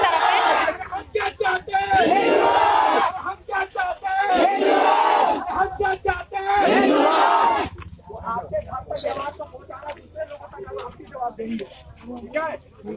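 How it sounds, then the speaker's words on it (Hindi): A large crowd of devotees gathered at a tree in Hazaribagh shouts and cheers in loud, surging waves, then settles into a murmur of many voices with nearby talk. "वहाँ देख सकते हैं भीड़ फिर से जुट गई है"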